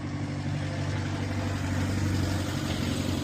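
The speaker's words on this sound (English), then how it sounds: "wait for this truck to go past" A large truck drives past on a street, a steady low engine rumble that stays loud and close throughout with no voices over it.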